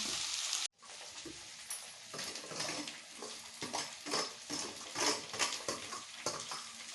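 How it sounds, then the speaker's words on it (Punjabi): Taro (arbi) dropped into hot oil in a wok, starting with a sharp splash and cut, then a steady sizzle and crackle with light stirring and clinks of metal against the pan, fairly quiet and close. "ਤੇਲ ਗਰਮ ਕਰਕੇ ਅਰਬੀ ਕੜਾਈ ਦੇ ਵਿੱਚ ਪਾਤੀ"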